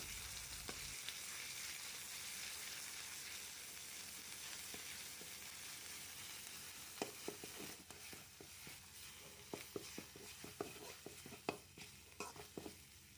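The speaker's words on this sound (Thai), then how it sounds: "ผัดพริกแกงให้หอมดีซะก่อนนะคะ" Coarse red curry paste fries in hot oil in a pan, sizzling steadily up close, with a run of scraping stirs and clicks from the spatula in the later part.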